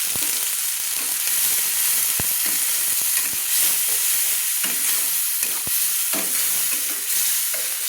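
Spice paste of ground onion and cumin frying and being stirred in hot oil in a pan for an eggplant and shrimp curry, a steady close sizzle with scraping stir strokes and sharp clicks throughout.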